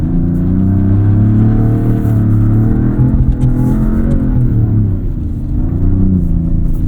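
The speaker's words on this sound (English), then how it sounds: "we've got a lot of snow, a lot of wheel spin" A 2026 Dodge Charger Scat Pack Plus AWD drives on snow with a lot of wheel spin. The engine roars loud and continuous, its pitch rising and falling in waves as the car revs.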